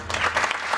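Audience applause at a Marathi kirtan, a dense wash of many hands clapping loudly and steadily through the whole brief moment.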